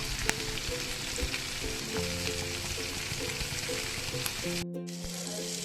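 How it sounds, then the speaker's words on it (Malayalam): Marinated mackerel frying in a pan on a low flame, a close, continuous crackling sizzle with a low steady hum beneath, and a momentary dropout near the end. "അത് ലോ ഫ്ലെയിമിൽ നന്നായിട്ട് ഫ്രൈ ആയി വരാം"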